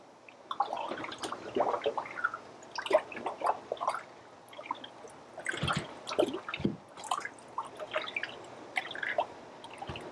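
Strong vinegar poured into water and stirred, giving irregular close drips, sloshes and small liquid splashes in uneven bursts, fairly quiet and with no talking.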